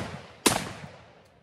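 Browning BAR MKII rifle chambered in .30-06 fired outdoors, one sharp loud report with a short trailing echo.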